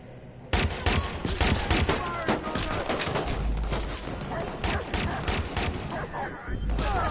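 Gunfire in Watch Dogs 2 erupts suddenly into a loud, sustained fusillade of rapid shots and bursts, dense and close, continuing for several seconds with no pause.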